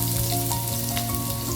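Chopped onion, cumin and curry leaves sizzle steadily in hot oil in a pan, a dense, even frying hiss close by with no voices.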